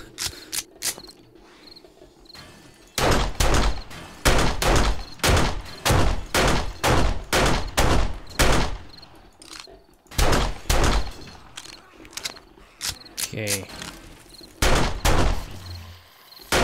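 Repeated bursts of gunfire from shooting enemies in the survival game 7 Days to Die, loud rapid volleys in several runs with short pauses between, over a faint insect-like chirping ambience.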